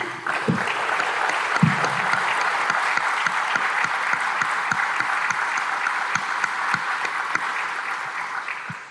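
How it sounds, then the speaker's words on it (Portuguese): Audience applause at a civic assembly in Bauru, Brazil, a steady wash of many hands clapping that holds at even loudness for the whole stretch, with a couple of heavier thumps near the start. "E eu gostaria de dar uma salva de palmas para todos eles."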